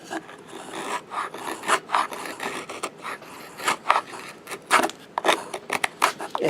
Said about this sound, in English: You can even cut wood with it.